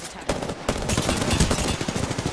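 Rapid automatic gunfire in the shooter game Apex Legends, a dense stream of sharp cracks in quick succession after a brief pause, loud and close, with overlapping bursts from a firefight and no talk.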